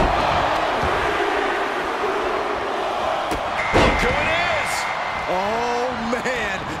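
A broad, steady video game wrestling crowd roar fills the clip during a women's Royal Rumble match, with a sharp impact thud partway through and a voice shouting over the din near the end.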